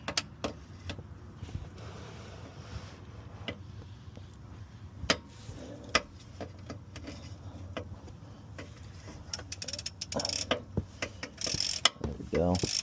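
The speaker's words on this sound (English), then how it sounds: "fill plug has been placed, I will tighten this down" A ratchet tightens the rear differential fill plug on a Nissan Stagea, with scattered clicking and metallic ticks that grow quicker and louder toward the end, close and quiet with no talking.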